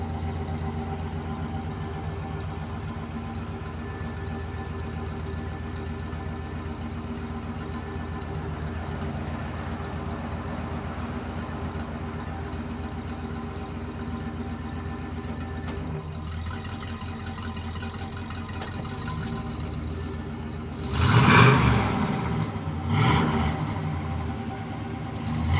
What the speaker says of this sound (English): Sounds good off the exhaust.